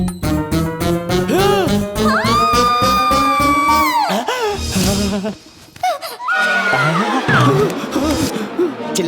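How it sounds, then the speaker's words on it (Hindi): Loud, sustained screaming from a scene in a Hindi family drama, with long wavering cries rising and falling, a brief lull, then more shrieks mixed with laughter-like sounds. "चिल्लाने की आवाज सुनी?"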